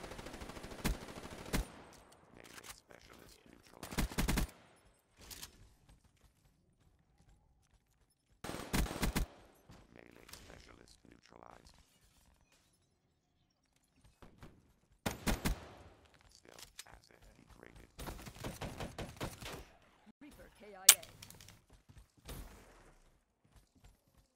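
Gunfire in Call of Duty Black Ops 3, bursts of rapid automatic shots and single cracks in separate clusters with quiet gaps between, close and loud.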